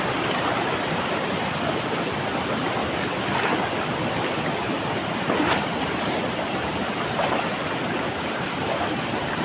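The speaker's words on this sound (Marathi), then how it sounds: "पाणी बघा काय बघा, बेकार असं पाणी आहे. प्रेशर पण लय प्रेशर आहे पाण्याला" A constant loud roar of high-pressure water rushing close by during heavy rain, dense and unbroken, with no voices.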